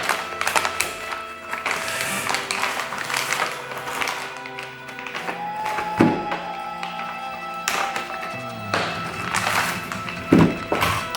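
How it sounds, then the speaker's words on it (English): A pocket knife slitting open the packaging of an ESEE CleaverClip 2 cleaver, heard as scattered close taps, thunks and rustling scrapes over about eleven seconds, with sharper knocks near the middle and end. "So let's use this pocket knife here to open the packaging."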